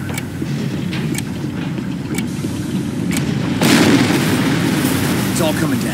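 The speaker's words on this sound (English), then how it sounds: "It's all coming down. One more explosion should finish it." Explosions in the Captain America: Super Soldier video game as machinery fails, a sustained loud rumbling roar with sharp bangs, swelling into a heavier blast midway.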